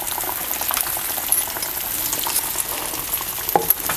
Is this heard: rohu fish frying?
yes